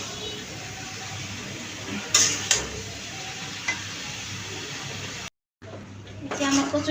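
Taro leaves are fried with shrimp in a pan, making a soft, steady sizzle with a few stirring clinks and a brief moment of silence.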